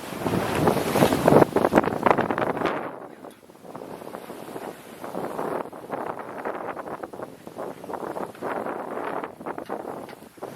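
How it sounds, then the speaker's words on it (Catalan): A sailboat crossing the Atlantic from Gibraltar toward the Canary Islands under full sail, with steady wind roaring over the microphone and water rushing along the hull, louder gusts at first and then a continuous surging wash. "amb un ventet de través que va pujant i baixant"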